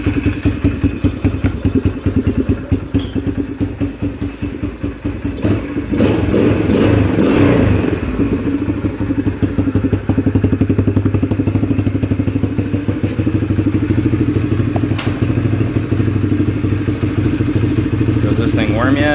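A Yamaha TTR125 motorcycle engine fitted with a Mikuni TM24 carburetor idles close by in a steady, fast-pulsing putter, the revs lifting slightly and holding a little higher after about six seconds.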